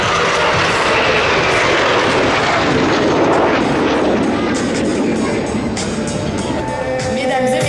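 Patrouille de France jets sweep past in Apache formation at low altitude during the 2021 La Ferté-Alais airshow, making a loud, continuous, roaring engine wash that fills the whole stretch, with a voice speaking over it.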